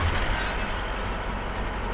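Tourist van driving on a village road toward Udangudi, a steady, loud low rumble of engine and road noise heard from inside, with no distinct events.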